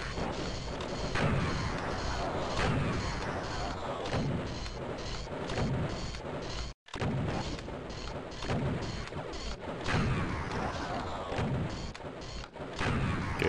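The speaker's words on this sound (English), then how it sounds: "these arachnotrons I will kill with the super shotgun" Doom II's super shotgun fires repeatedly at arachnotrons, each heavy blast loud and booming with crunching impacts, in a steady rhythm of shots and a brief break midway.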